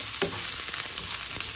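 Onions and chicken gizzard sizzle and fry in a pan, a steady close hiss broken by a couple of scraping stirs, with no talking.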